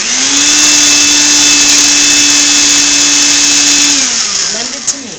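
A blender whirs loudly and steadily for about four seconds while blending horseradish sauce, then its motor winds down as it switches off.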